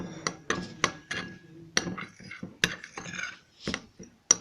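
Nimko spices of red pepper, tatri powder and chaat masala being mixed in a bowl, with a string of sharp clinks and taps of a spoon against the dish, irregular and close.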